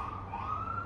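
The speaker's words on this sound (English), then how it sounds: "Oh no, now I have a siren going." An emergency vehicle siren sounds from somewhere in a residential neighborhood, a steady, moderately distant wail holding one tone through the brief moment.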